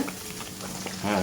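Sambal with belacan, anchovies and garlic fries in oil in a pan for nasi lemak, giving a steady close sizzle with a brief louder surge at the end.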